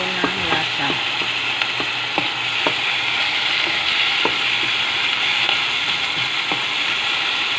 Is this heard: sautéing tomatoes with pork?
yes